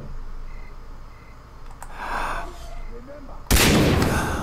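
A sniper rifle fires from a high vantage point in a video game, one loud sharp blast at the end after quieter ambient game sounds.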